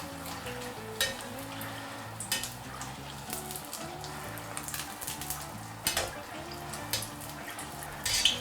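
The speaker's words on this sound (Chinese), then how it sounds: "我们下锅给它炸熟之后，再来看一下这麸合不合适。" A test piece of batter-coated fish fries in oil at moderate heat, giving a soft, steady sizzle with faint bubbling and a few light clinks, no talking.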